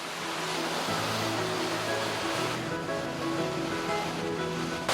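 Rough ocean surf and blowing wind along a coastal hiking trail in Newfoundland give a steady, loud roar that holds for the whole clip, with some low tonal hum underneath and no talking.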